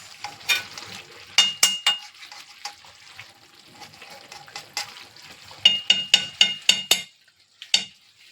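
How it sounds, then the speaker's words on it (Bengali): Ghee being stirred into a sizzling cauliflower curry in a pan, with a steady low sizzle under repeated sharp scrapes and clinks of a spoon against the pan, coming in bursts. "এবার ঘিটা দিয়ে মিশিয়ে দিচ্ছি।"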